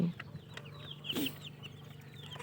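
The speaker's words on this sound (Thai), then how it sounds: "อัปเดตลูกไก่เดือนกว่าค่ะ นี่" Month-old hatchery-raised laying-hen chicks give a few soft clucks and chirps, close but fairly quiet, over a low steady hum, with no one speaking.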